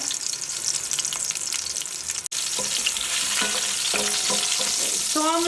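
Onions and garlic sear in a pot of hot oil left from frying lamb shanks, giving a steady, close sizzle with faint clinking tones rising in the later seconds.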